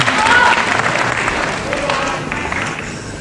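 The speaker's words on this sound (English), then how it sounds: "a very good crowd here at the Assembly Hall, Walthamstow, appreciating that counter there by Rudge" Crowd applauding at a wrestling match in the Assembly Hall, Walthamstow, a loud burst of clapping that slowly fades, with a commentator speaking over it.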